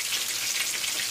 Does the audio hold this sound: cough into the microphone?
no